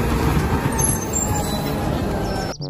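Garbage truck, near and loud: a steady heavy diesel engine rumble with a hissing air-brake texture runs almost three seconds before an abrupt cut.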